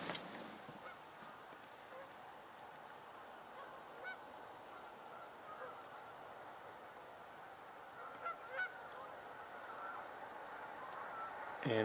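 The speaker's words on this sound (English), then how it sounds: "sounds like a number of Canada geese" A number of Canada geese honk from a distance over an outdoor wetland hush, faint scattered calls that grow a little busier toward the end.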